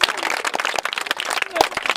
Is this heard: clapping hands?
yes